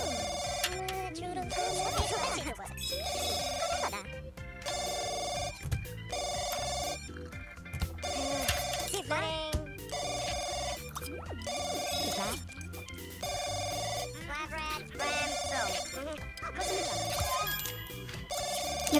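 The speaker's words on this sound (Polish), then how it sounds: "Ten telefon mnie denerwuje." A telephone rings repeatedly in The Sims 2 life-simulation game, regular bursts of ringing recurring about every second and a half, mixed with game music and sounds.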